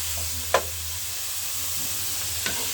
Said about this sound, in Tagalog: At ito na yung chicken ang ating hinahalo-halo natin, guys.